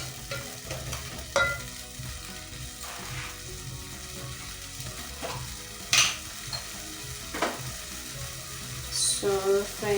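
Green pepper frying in a pan while being stirred for a matoke dish, a steady sizzle broken by scraping and clattering spoon strokes, with music playing underneath.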